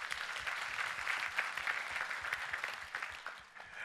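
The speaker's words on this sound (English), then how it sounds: "A round of applause for him." Applause from a leadership forum audience for a speaker, a steady wash of clapping heard at a moderate distance throughout.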